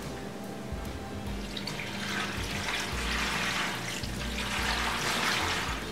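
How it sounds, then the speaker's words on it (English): Water pours and splashes continuously for several seconds at moderate loudness, a steady rushing stream with no voices over it. "Pour some more water on there."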